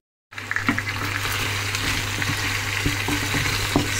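Pork trotters (paya) frying in a pan, with a steady close sizzle under scattered scraping stir strokes from a spoon, after a brief silent start and with no talking.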